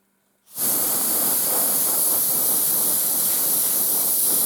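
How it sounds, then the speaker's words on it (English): Airbrush spraying Vallejo Bone White paint onto a wargaming wall model, a steady close hiss starting abruptly after a brief silence and holding at an even level without a break. "just testing it with the airbrush a little bit."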